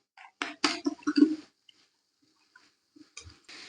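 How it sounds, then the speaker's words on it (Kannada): Ground biryani spice paste drops into a pot of hot oil, giving a few soft, wet squishes and clinks in a short cluster, followed by near silence and a faint later plop. "ರುಬ್ಬಿರೋ ಪೇಸ್ಟ್ ಹಾಕ್ತಿದ್ದೀನಿ."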